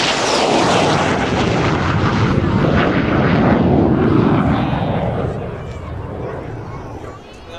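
A MiG-17PF jet fighter makes a low, fast pass at an airport air show, a loud roaring engine rush that fills the air, then slowly fades as it moves away, with a voice faintly beneath.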